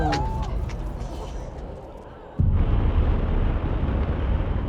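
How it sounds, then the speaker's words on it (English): Delta IV Heavy rocket lifting off carrying NASA's Parker Solar Probe: after a stretch of crowd murmur and noise, a sudden deep roaring rumble begins and stays loud and broad, a sustained distant engine thunder. "Liftoff of the mighty Delta IV Heavy rocket with NASA's Parker Solar Probe."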